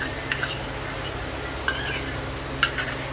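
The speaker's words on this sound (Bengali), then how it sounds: "টমেটো পিউরিটা একটু দিয়ে নেড়ে চেড়ে কাঁচা গন্ধ চলে গেলে" Mutton kosha being stirred after tomato puree goes into the pan, with a few soft scraping clinks of a spoon against the metal over a steady low hiss of cooking, with no talking.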